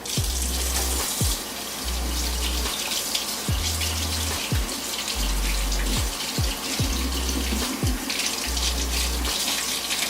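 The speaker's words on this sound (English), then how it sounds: "so I'm gonna turn the water back on and rinse" Water runs steadily from a tap to rinse a makeup brush during deep cleaning with homemade soap, a loud, continuous close gush with no talking.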